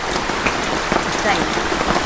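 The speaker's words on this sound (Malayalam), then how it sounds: "മഴയാണേ മഴ എപ്പോഴാ തുടങ്ങിയത്" Steady rain falls on the surfaces nearby, a dense continuous patter throughout.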